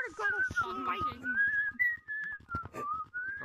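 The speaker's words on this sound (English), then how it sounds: "Keep whistling, it's making him angry." A person whistles a wavering, melodic tune close by in short phrases with brief gaps, while low voices murmur underneath.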